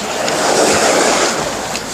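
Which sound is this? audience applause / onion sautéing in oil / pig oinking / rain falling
rain falling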